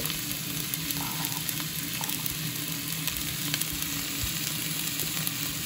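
Onions fry in hot oil in a pan, a steady crackling sizzle close to the listener with small pops and faint stirring clicks, and no one talking.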